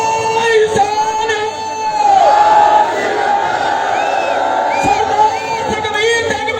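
A crowd at a Shiromani Akali Dal rally for Sukhbir Singh Badal in Ferozepur Rural shouts a Sikh jaikara response, a loud massed chorus of voices that swells and holds, with individual yells rising above it.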